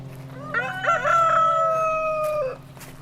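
A rooster crows once on a farm, a clear, loud, drawn-out call lasting about two seconds, with other fowl faintly in the background.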